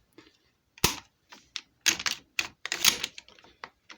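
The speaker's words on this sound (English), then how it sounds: "this gun will just keep on racking" Mechanical clacks from a Mossberg 500 shotgun whose slide is worked repeatedly without the action locking into the barrel, a quick irregular run of close, sharp metallic clicks and slides with no talking.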